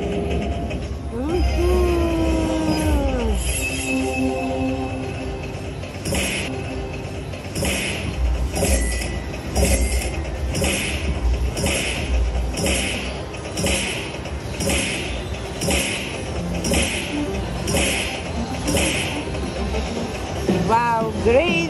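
Slot machine bonus-game sounds from the Dragon Train machine at Yaamava Casino: repeated bright chiming jingles and electronic tones pulsing steadily over busy casino background noise, with a voice talking early on.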